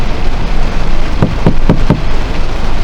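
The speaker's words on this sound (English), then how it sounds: "It's a nice, good fucking rainstorm." Heavy rain pours down steadily in a loud, even hiss throughout, with a few brief thumping knocks midway and no talking.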